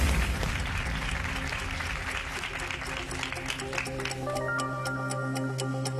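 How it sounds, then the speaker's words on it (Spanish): Studio audience applauding a contestant on a Pasapalabra game show, a dense, steady clatter of many hands filling the room, with a bright ticking clock tone and sustained music chimes rising over it toward the end. "Demos un aplauso gigante a Gianfranco porque no tiene fallos."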